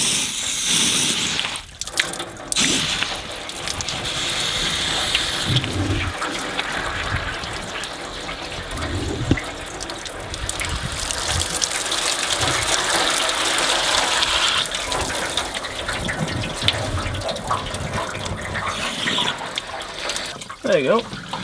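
Water flushing through a Land Rover 101 part, gushing and splashing in uneven bursts over about twenty seconds, with people talking intermittently.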